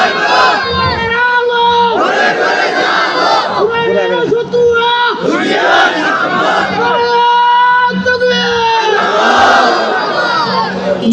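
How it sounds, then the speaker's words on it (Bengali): A large crowd at an outdoor religious gathering chants takbir in loud, unified call-and-response shouts, with a lead voice answered by rising waves of massed voices, repeated several times. "তাহলে তাকবীর দিয়ে দেবো"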